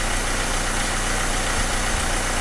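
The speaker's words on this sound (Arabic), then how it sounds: "صوت المحرك عمليا ينقص عمليا ينقص بالدرجة هذه لين يولي حس عادي نتاع سيارة عادية" A car engine idles after its fuel injectors were cleaned, giving a steady, even mid-low hum with a faint vibration throughout, close and continuous with no voices.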